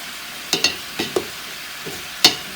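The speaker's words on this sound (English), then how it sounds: "Let's give these collard greens a little stir here" A spoon stirs collard greens with tomatoes and shallots in a pan, making several short scraping strokes in uneven bursts over a faint background sizzle. The sounds are close and moderately loud.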